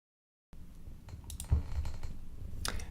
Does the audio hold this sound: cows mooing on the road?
no